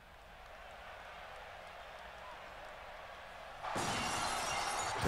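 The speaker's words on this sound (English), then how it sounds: "The glass is broken." A sudden burst of shattering glass cuts in as an entrance effect for wrestler Stone Cold Steve Austin at an Extreme Rules event. It rises out of a rising crowd roar and stays loud and bright to the end.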